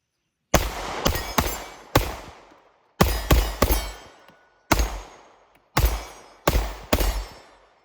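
Rost Martin RM1C pistol fired in quick groups of two to three sharp, loud shots with ringing decay, four separate strings spaced a second or so apart, no talking.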